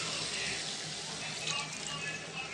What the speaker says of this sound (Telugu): తర్వాత కొంచెం వాటర్ వేసుకున్నామండి.